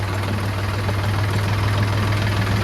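A tractor engine idles steadily with a low, throbbing hum as it stands in flood water in a village, close and continuous with no voices over it.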